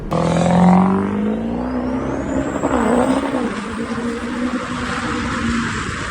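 A 6.0 Powerstroke diesel truck with a compound turbo revs loudly up close, a rising turbo whistle climbing over the engine's deep roar before settling into a steady, heavy drone, with no voices.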